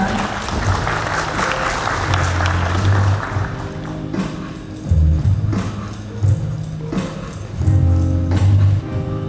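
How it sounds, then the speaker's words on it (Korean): A large audience at a regional council inauguration ceremony applauds, dense clapping with a low hum beneath, swelling in several waves, while a voice speaks over it partway through. "큰 박수 부탁드리겠습니다"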